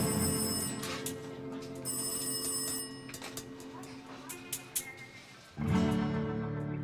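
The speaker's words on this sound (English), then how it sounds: "the phone rings again." A telephone rings at a restaurant in bursts of bright repeated tones with pauses between, heard over a steady background hum.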